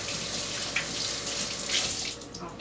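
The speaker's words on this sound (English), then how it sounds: "I want to rinse my hands very quickly, being I was touching raw eggs" Close and fairly loud, water streams from a kitchen faucet as hands are quickly rinsed after handling raw eggs while baking chocolate chip cookies. The rush is steady and unbroken throughout, with no talking.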